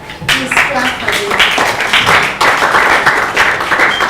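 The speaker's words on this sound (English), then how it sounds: "Please clap for them." A crowd at a closeout ceremony claps for several seconds, a dense patter of many hands, with a voice audible underneath.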